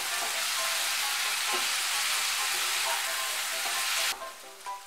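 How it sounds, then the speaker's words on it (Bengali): Potatoes, bitter gourd and pumpkin fry in hot oil in a pan, a steady loud sizzle with occasional stirring scrapes, easing slightly near the end. "এখন আমি আলু, করলা আর মিষ্টি কুমড়োগুলো ভালো করে ভেজে নেব"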